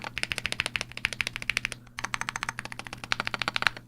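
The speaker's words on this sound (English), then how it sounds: "It's starting to sound like a good keyboard now" Brisk, steady typing on a modded Wooting 60HE keyboard with improved stabilizers, close and crisp, each keystroke a distinct clack in quick bursts, a short pause in the middle, with no voices.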